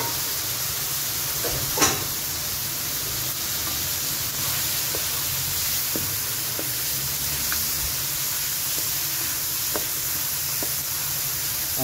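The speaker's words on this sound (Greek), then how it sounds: "Ρίχνουμε λοιπόν μπόλικη μόνο φρέσκια ντομάτα." Plenty of fresh tomato added to a hot pan with onion and xinochondros, a steady bright sizzling hiss throughout with a few small pops and light utensil clicks.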